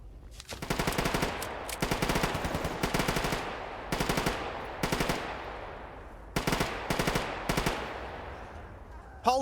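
Bursts of rapid gunfire from an old semi-automatic weapon in a shooter video game, several clusters of sharp, loud shots separated by short pauses.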